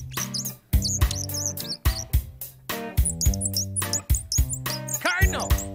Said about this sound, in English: Cardinal.